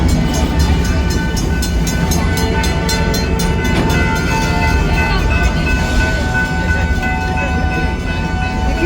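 A small amusement park train at Fiesta Texas rumbles along steadily with rhythmic clacking and metallic squeals, a continuous moderately loud running sound.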